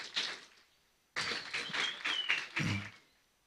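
A church congregation gives a short round of applause for a singing group, scattered hand claps in two bursts, fairly faint and roomy, with a voice briefly heard.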